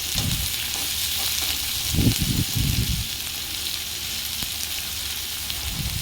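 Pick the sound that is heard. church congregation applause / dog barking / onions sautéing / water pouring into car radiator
onions sautéing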